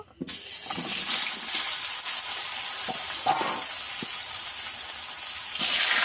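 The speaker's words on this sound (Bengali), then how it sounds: "একইভাবে সব আলুগুলো কেটে নেব পোড়া গরম হয়ে গেছে দিয়ে দেব তেল ভালো করে ভেজে নেব" Cut potatoes dropped into hot oil, a loud continuous hissing sizzle starting abruptly and holding steady throughout, close up, with a few faint clinks underneath and no talk.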